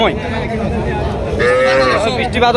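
Cattle, including border-crossed Sahiwal and Nepali Gir bulls, call at a busy livestock market in Bangladesh, with a clear moo rising over crowd babble and nearby voices throughout.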